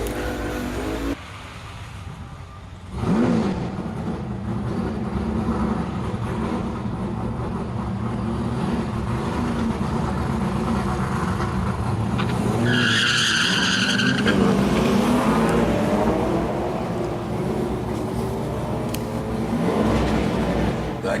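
Drag racing cars at a Heathcote test-and-tune day, one struggling to put its power down, roar steadily down the strip. The loud, sustained engine noise swells sharply near the start and holds throughout with a rough, gritty texture.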